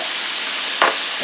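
Onions for a cheese steak frying in a pan, seasoned with Creole seasoning: a steady, close, bright sizzling hiss with a brief louder crackle partway through, and no voices.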